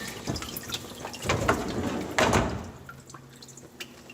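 A dishwasher fills with water and runs its cycle, giving irregular splashing, dripping and sloshing bursts with a couple of louder surges, then settling into quieter trickles and a low steady hum near the end.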